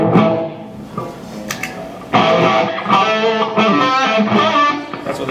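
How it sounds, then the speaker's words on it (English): An electric guitar played through a boost pedal with the gain turned up gives a loud, close distorted tone, a few struck notes first and then sustained chords ringing with gritty saturation. "That's what the distortion sounds like on the pedal by itself."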